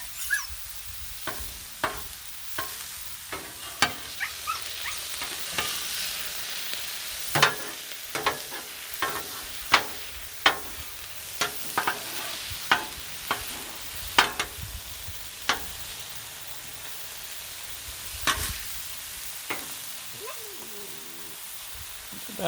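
Cheesesteak meat sizzles steadily on a flat griddle while a metal spatula scrapes and chops it in irregular sharp clacks, a close busy cooking sound with no voices.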